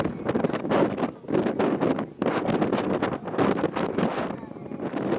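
Strong gusts buffet the microphone on the waterfront at Tamsui, Taiwan, a loud, continuous rumbling roar that swells and dips, with people talking under it.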